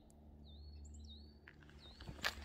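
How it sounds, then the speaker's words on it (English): A few faint, thin bird chirps and whistles sound on Bennachie hill in Aberdeenshire, Scotland, over a low steady hum, followed by a brief rustle. "Probably hear the birds chirping away."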